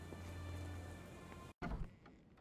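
Steady rain falls in the video game Sherlock Holmes: The Awakened, a soft continuous hiss that cuts out for an instant and then returns slightly louder.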